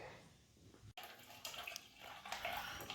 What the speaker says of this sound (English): Draining the oil out.